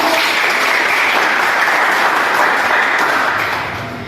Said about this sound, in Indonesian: Beri aplaus untuk kalian.